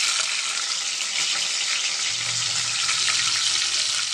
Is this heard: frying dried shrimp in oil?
yes